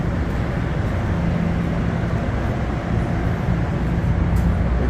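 New Jersey Transit train 1877 pulls out of Hoboken station, a steady broadband rumble and rolling rail noise that stays constant and fairly loud throughout, with no voices over it.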